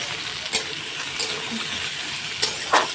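Okra sizzles as it fries in a pan, with a few brief scrapes and clinks as it is stirred, heard up close and alone.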